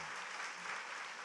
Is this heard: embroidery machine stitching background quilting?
no